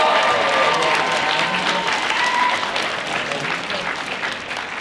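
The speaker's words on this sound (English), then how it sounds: "Let's give them a big round of applause." Audience applause at a costume contest held at a gaming expo, steady dense clapping from a crowd that holds for several seconds and tapers slightly toward the end, with some faint voices mixed in.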